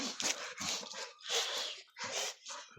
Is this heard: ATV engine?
no